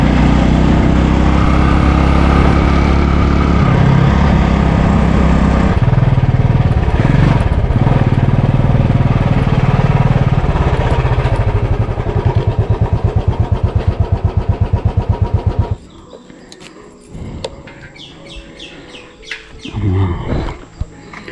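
A Bullet motorcycle engine thumps loudly and steadily up close while being ridden, then drops away to a quieter idle and faint ambient sounds in the last few seconds.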